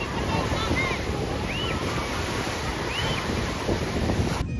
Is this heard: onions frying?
no